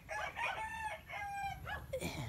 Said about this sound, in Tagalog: Ang gandang manok to.